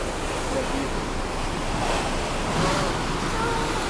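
Sea waves roll and wash continuously on open water seen from a ferry, a broad steady rushing roar mixed with wind buffeting the microphone and faint engine hum beneath.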